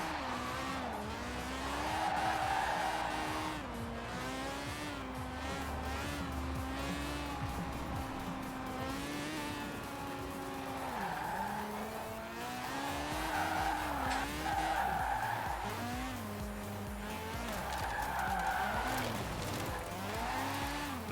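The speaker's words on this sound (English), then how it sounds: "This is the drift car that I've just built, the Mazda RX-7." A 1997 Mazda RX-7 drift car drifts through snow, its engine rising and falling in long revving swells with tire squeal and skidding, loud and continuous with no talking.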